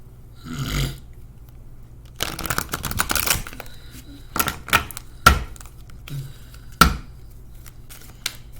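Cards being shuffled and handled up close, with bursts of riffling and snapping between quieter gaps, plus a few sharp taps.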